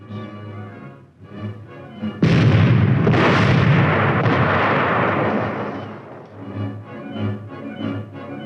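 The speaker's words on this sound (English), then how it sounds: "The tank platoon's primary armament consists of 5 high-velocity 90mm guns." A 90mm tank gun fires with one loud, sudden blast that booms and rolls on for several seconds before fading, between quieter stretches of background sound.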